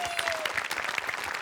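A studio audience at a Marathi comedy show claps in a brief, steady burst, close and fairly loud, with a faint whistle-like tone underneath.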